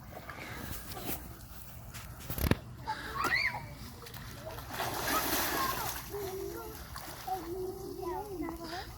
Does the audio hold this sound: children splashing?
yes